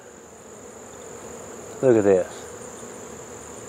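Newly hatched honey bees flying around the hives make a steady, low buzzing drone throughout, and a voice briefly speaks over the hum partway through.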